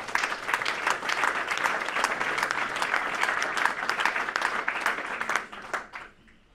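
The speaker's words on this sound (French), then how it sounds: "Je vous demande de l'applaudir, s'il vous plaît." Audience applause fills a general assembly hall, a dense, steady patter of many hands clapping at close range for about five seconds before tapering off quickly.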